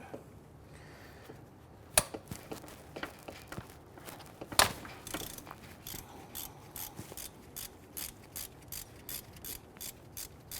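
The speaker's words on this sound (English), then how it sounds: "So we're going to use our shallow socket. We're going to use our swivel head ratchet." Swivel-head ratchet with a shallow socket loosening the 14 mm center bolt on the idler pulley of a 2006-2012 Toyota RAV4 3.5L V6, with a couple of sharp clanks and then a fast run of close, regular ratcheting clicks.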